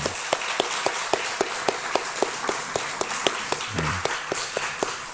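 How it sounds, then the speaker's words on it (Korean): Church congregation clapping in unison, a loud, even rhythmic beat of roughly three to four claps per second filling the hall, with a brief low murmur partway through. "우리 자녀들 축복하는 마음으로 박수 한번 쳤으면 좋겠습니다"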